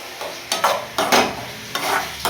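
Tomato thokku is stirred in a hot pan: several quick scraping strokes of a spatula over a soft frying sizzle, close and moderately loud, with no voices.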